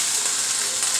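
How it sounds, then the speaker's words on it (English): Loud, steady hissing and crackling of chicken sizzling in hot oil in a skillet fills the moment, close and continuous without any talking. "I'm going to add the chicken to that. You can hear it sizzle as I do that."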